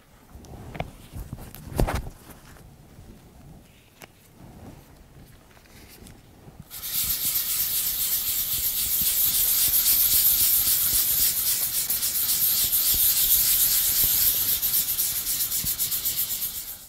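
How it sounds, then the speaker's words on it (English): Sheet of 500-grit sandpaper burnishing a liquid bronze finish on terracotta, a few scattered taps and light rubs, then a loud continuous scratchy rasp of steady back-and-forth sanding that runs to the end. "grab my fine grade sandpaper. I've got a 500 grit here, and I'm going to lightly burnish the surface."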